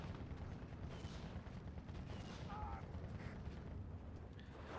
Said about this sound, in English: now the 50 mil mortar doing its terrifying work once again